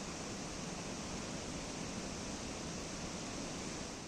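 Water overflowing from the Chilewadi dam and being released into the Mandavi river during heavy rain, heard as a steady, dense roar of rushing water with no pauses, loud and continuous throughout.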